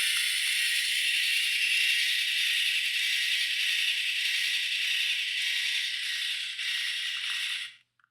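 Small motor in a Fanhome E.T. model kit running steadily for several seconds with a high buzzing, rattling whir close by, then cutting off abruptly.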